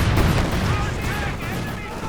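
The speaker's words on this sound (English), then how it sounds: "Bombs coming in." Artillery bombardment landing in the World War II strategy game Company of Heroes 2, a dense rumbling barrage of booms and blasts rolling continuously and loudly, with a voice talking over it.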